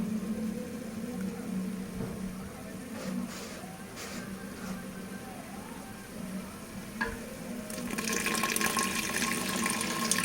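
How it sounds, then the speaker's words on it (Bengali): A small splash of water goes into a pan of frying onions for homemade chicken biryani, a steady close sizzle and bubbling that brightens and intensifies toward the end. "একদম অল্প একটু জল দেবো।"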